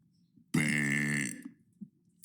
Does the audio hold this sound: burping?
yes